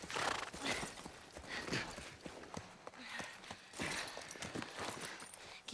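Horse hooves clopping in The Last of Us Part 1, a rapid uneven run of close hoofbeats with a possible whinny, nearly alone without talk.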